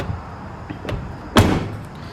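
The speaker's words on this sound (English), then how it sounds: "this door here closes good" A car door at a vehicle closes, giving a soft thud with a short latch click after a couple of lighter taps and knocks, heard fairly close with no talk.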